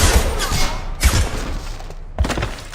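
Mass Effect 2 video game combat, with heavy gunfire bursts and thumping impacts in three loud clusters close together, echoing briefly between shots, with no voices.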